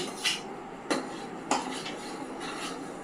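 A spoon stirs a milk and custard powder mixture in a pot for almond kulfi, giving a few sharp, isolated clinks and scrapes against the metal over a quiet background, with no talking.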